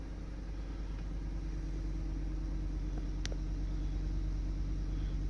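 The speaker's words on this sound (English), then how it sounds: "when you want to start your truck, you have to hit the lock button" A Ford F-150 pickup, 2011–2014 model, idling after a remote start, giving a steady low engine rumble throughout with a brief faint click partway through, no talking.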